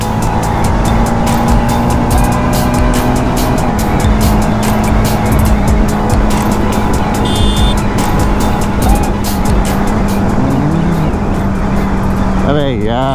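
A motorbike ridden fast over the Janakpuri flyover in Delhi: a loud, steady engine drone and rushing wind fill the recording throughout, with traffic around and a horn near the end.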